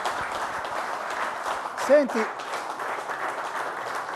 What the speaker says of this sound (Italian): Bravo Celotti, ti facciamo un applauso.